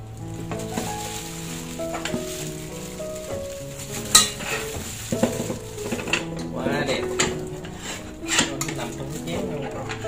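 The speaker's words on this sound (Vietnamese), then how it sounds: "Giờ bắt đầu mình bỏ gà vào nồi các bạn." Chicken pieces set into a cooking pot for fish-sauce steamed chicken, with dish and pot clatter, one sharp clank partway through, and light scraping over steady tonal background sound.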